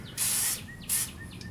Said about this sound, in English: Anyways, you want to spray those.